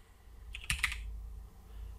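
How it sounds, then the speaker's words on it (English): A few quick keystrokes on a computer keyboard, clustered in under a second while a counter is entered in simple hotel software, fairly faint over a low background hum, with no talking. "So I'm going to type my"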